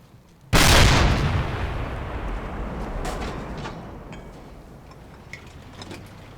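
A single loud cannon blast from the game Project Reality opens sharply, then a long rumbling decay with faint distant pops trailing off.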